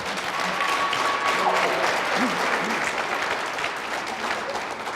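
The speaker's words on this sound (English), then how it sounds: "Don't take away all my time for the clapping." A debate audience at a 2018 Ohio Democratic gubernatorial debate claps in a dense, sustained wash of many hands, steady and fairly loud throughout, with no one speaking over it.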